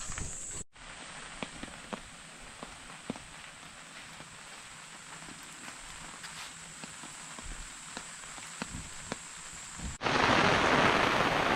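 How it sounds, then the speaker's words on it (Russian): Heavy rain falls steadily at a family campsite in Japan, a continuous close wash of patter with scattered sharper drops, building to a louder, denser downpour near the end. "дождь вообще разошелся по полной программе"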